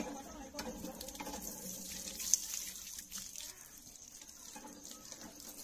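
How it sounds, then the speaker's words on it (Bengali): Hands are washed under a running tap, water streaming and splashing faintly and steadily into a basin, with soft rubbing and dribbling sounds at close range. "খাবার খাওয়ার জন্য হাত ধুচ্ছি, হাত ধুয়ে নিচ্ছি"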